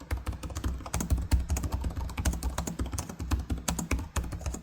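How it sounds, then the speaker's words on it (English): Steady, rapid typing on the shallow, plasticky full-size keyboard of an MSI Vector 16 HX AI (2025) gaming laptop, including a numpad, with close, crisp key clatter continuing throughout and no talking. "Now here's what the keyboard actually feels and sounds like."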